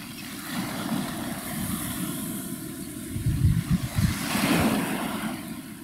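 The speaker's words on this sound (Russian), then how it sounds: "Просто посмотри, посмотри на эти волны." Sea waves surge and break on the shore at early morning, a broad steady wash of surf with wind noise, swelling into a louder, closer crash midway before settling back to a rolling hiss.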